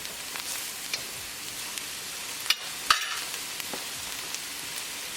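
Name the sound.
onions frying and being stirred in a pan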